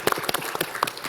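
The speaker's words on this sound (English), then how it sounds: "let's applaud our community banks" A small conference audience at a homeownership summit gives a short burst of scattered hand claps, individual slaps distinct rather than a dense roar, lasting about a second.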